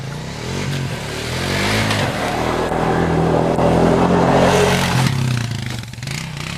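A vehicle accelerates in third gear toward a snow jump, its engine rising steadily in a loud, close revving pull for several seconds before easing off near the end.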